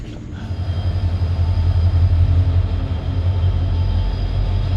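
Train running on rails in India, its steady low rumble and rhythmic wheel clatter loud and continuous from inside the moving carriage, with a faint high whine above.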